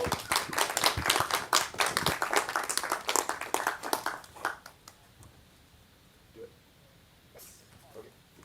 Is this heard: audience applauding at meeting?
yes